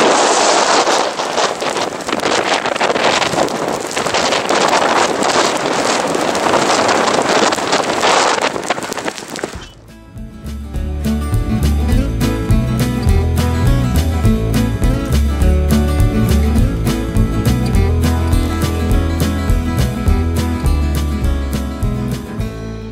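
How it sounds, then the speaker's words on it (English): Loud, roaring wind buffets the microphone for about ten seconds in the Scottish Highlands, then gives way to a steady low rumble with rhythmic pulsing for the rest. "It is super windy."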